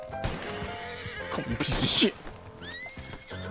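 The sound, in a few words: horse neighing in Red Dead Online video game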